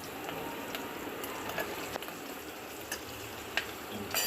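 Mustard seeds and curry leaves crackle and sizzle in hot oil for Gujarati cooking, a steady quiet frying hiss dotted with small irregular pops.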